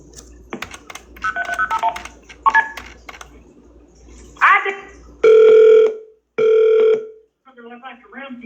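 Touch-tone keypad beeps from a recorded 911 emergency call: scattered short dialing tones, then two long loud tone bursts, with a voice speaking over the line before and between them.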